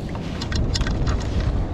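A small rowboat is rowed across windy water near shore, with a blustery low wind roar across the microphone and a few soft watery splashes from the oars in quick succession.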